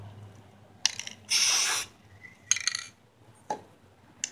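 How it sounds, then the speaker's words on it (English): Aerosol sealant sprayed from a can over painted rocks, one steady hiss of about half a second, close and fairly loud, set among a few small clicks and knocks. "just spray your sealant."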